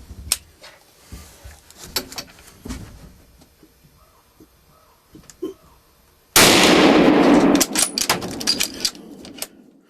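A rifle fires at a buck from a hunting stand in Canada. After soft rustling and small clicks comes one sudden loud blast that roars for about a second before the quiet returns.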